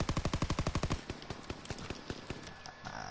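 Rapid automatic gunfire in Call of Duty WW2, a tight burst of about a dozen evenly spaced loud shots followed by slower, scattered single shots and fainter game noise.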